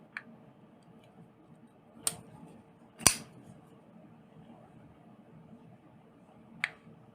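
A few sharp, faint clicks of the lock on a Spyderco Military folding knife, slightly catching on the blade tang, spaced irregularly against a quiet background.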